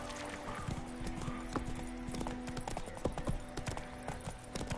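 Roach the horse galloping in Witcher 3: rapid, rhythmic hoofbeats pounding steadily throughout, with a brief whinny near the start over a faint background tone.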